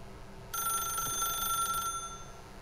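An in-game telephone in The Stanley Parable rings once in a sustained electronic trill lasting over a second, loud and close, alone with no voices, then fades into quiet room tone.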